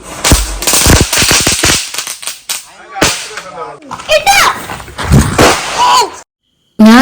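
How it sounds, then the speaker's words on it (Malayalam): Firecrackers bursting during a Vishu celebration at a house, a rapid close chain of loud cracks followed by scattered pops, with people talking and shouting between the bursts. "ഈ പടക്കം പൊട്ടിക്കുന്നത്"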